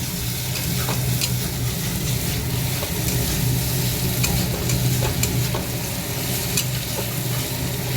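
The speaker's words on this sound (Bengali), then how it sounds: "মশলাটা পুরো ভাজা হয়ে গেছে, তেলটা একটু বেশি হবে মনে হয়" Spice paste frying in oil for a small fish curry gives a loud, steady sizzle that lasts the whole time, with faint scraping and stirring running underneath.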